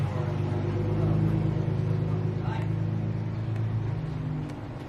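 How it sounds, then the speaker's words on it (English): A car rolls past outside, giving a low engine rumble and road noise that stays steady for several seconds and fades slightly toward the end, at moderate distance. "Some people just drove by."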